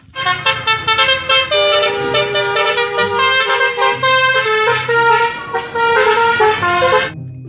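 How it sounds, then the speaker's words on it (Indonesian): A toy bus blares a musical telolet horn, a bright multi-tone melody of rapid honks repeated close and loud for several seconds before stopping. "Mobil bus telolet, teman-teman."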